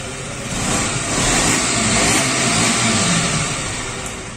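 A 2021 BS6 KTM motorcycle engine revs up and back down in a single rough, throaty swell from its exhaust, close by and loud.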